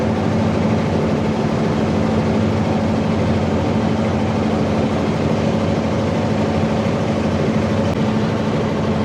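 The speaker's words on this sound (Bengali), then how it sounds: "তো আমাদের ট্রলার ছেড়ে দিছে" Steady, loud low engine drone of a trawler boat on a haor wetland, with a constant hum, running continuously without pause and no talking over it.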